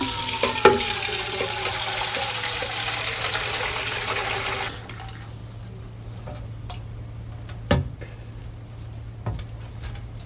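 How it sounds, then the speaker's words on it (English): Tap water runs into a drinking glass for a tabletop air-pressure demonstration, a steady loud gush that cuts off abruptly partway, leaving faint room noise with a couple of small knocks. "Fill it with water."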